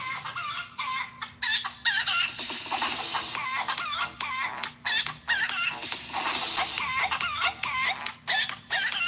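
Chickens and a rooster cluck continuously in a busy farmyard chorus, with repeated sharp clucks and a longer crowing call standing out, loud and close, with no talking over them.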